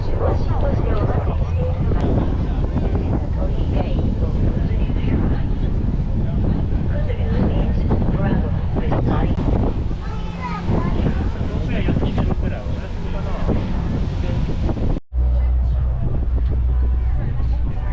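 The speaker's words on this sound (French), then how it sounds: "Ah, il y a du vent, il y a du vent." Strong wind roars across the microphone at the stern of a boat on the water near Hakone, a loud continuous rumbling buffet with engine and water noise beneath, while people talk.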